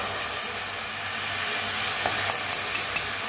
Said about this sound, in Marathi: तर पहिल्यांदा काय करू आपण मटकी भाजून घेऊया